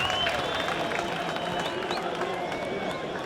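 A surf contest crowd in Rio cheering and applauding, dense clapping and shouting at a steady level with voices mixed in, heard from within the audience.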